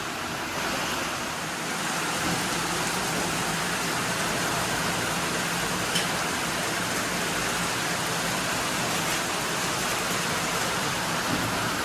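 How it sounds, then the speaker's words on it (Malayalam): Very heavy rain pours down outside in a steady, dense roar that fills the whole stretch without a break. "അതികഠിനമായ മഴ പുറത്ത്"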